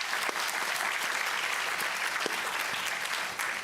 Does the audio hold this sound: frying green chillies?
no